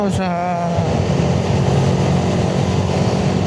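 A carbureted Suzuki Raider 150 motorcycle engine drones steadily at high revs while straining up a steep road, heard close with wind buffeting and no letup.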